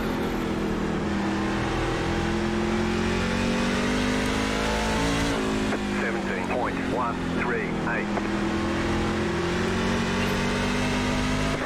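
Engine note of a NASCAR Truck Series racer in iRacing during the Concord 150 AI race, a loud steady drone whose pitch rises and falls as the throttle is eased, with brief higher whines mid-clip and a voice talking over it.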